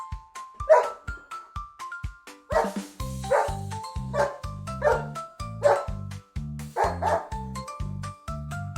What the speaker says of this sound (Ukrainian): Це собачка. Як вона з нами розмовляє, ти знаєш? Гав-гав.